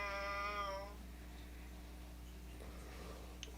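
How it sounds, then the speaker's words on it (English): A pet cat meows once in a drawn-out, clear call while being stroked along its back, close and fairly loud, then only low steady room hum remains. "Petting my cat now."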